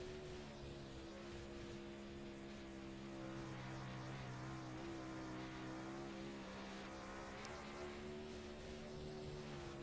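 A 360 sprint car lapping Knoxville Raceway, its engine producing a continuous loud, harmonic roar that rises and falls slightly in pitch as it works around the dirt oval, with no talking.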